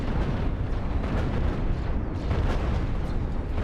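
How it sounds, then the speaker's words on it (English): Deck cannons firing in alternating volleys during a Cosmoteer space battle, a dense, continuous rumble of overlapping booming blasts and bursts that stays loud throughout. "blows it away with alternating fire deck cannons"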